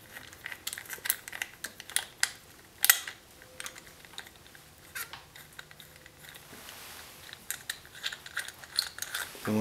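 Bolts are started by hand on a motorcycle hand shield mount, giving faint, close, irregular clicks, small metallic ticks and rustles that come in quick bursts with short pauses between.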